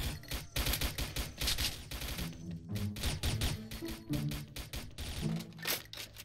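Rapid bursts of gunfire from the shooter video game XSHOT crackle in quick succession, dense and repeated throughout with a steady rattling rhythm, fairly close and loud over a busy game soundtrack.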